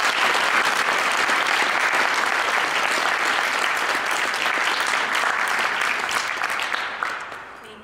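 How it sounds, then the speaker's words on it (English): An audience at an arts venue gives a round of applause, dense loud clapping from a full room that holds steady and then fades away over the last second. "Can you please just join with me to in a round of applause for the volunteers"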